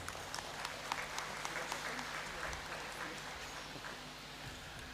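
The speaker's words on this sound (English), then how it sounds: "Please let's welcome him with a round of applause." Audience applause fills a large hall during a university congregation ceremony, a steady wash of many hands clapping with scattered louder claps, sustained throughout with low crowd murmur and no talk.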